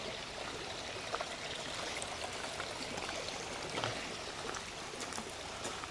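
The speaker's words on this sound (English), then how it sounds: "Look at that little stream." A small stream flows at Hidden Lake, a steady, broad rushing babble of water with light splashes, continuous and fairly near, with no one talking.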